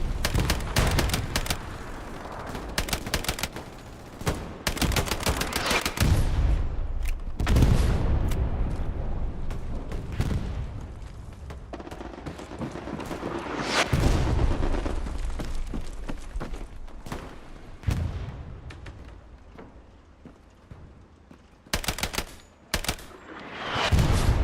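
Bursts of Grease Gun submachine gun fire crackle through a Hell Let Loose battle on Omaha Beach, with repeated rapid volleys, heavy explosions and dense surrounding gunfire over about twenty seconds, no voices.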